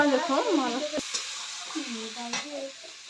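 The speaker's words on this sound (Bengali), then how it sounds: "দেখুন তরকারিটা রস জুস কেমন করে ফুটছে" Rui fish curry with potol and potato cooks in a pan, a soft sizzling and bubbling bed under a voice speaking throughout, with a couple of sharp clinks of utensils.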